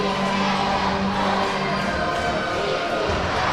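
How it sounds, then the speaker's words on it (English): Crowd cheering steadily at a boys volleyball semifinal in a gym, a dense continuous roar of voices with occasional thuds and shouts rising through it. "I am hearing every single cheer that's going on"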